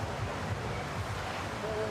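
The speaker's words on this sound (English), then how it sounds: "It's getting windy now, eh?" Wind buffets an outdoor commentary booth at a junior downhill mountain bike World Cup race in Leogang, a steady low roar of gusts and microphone rumble continuing unbroken without speech.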